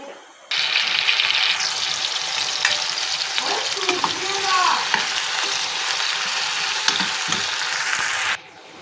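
Onions browning in a pan sizzle loudly and close from the start, with stirring scrapes and clatter of a utensil midway, then the sizzle stops abruptly near the end.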